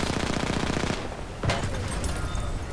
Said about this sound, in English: shooting a tank with a SMG like this one